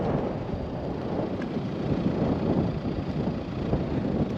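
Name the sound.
wind blowing on Mount Finke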